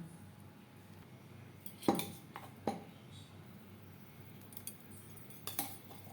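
Egg chilli batter is whisked in a bowl, with a few sharp metallic clinks and scrapes of utensil against the bowl standing out over a low, steady background.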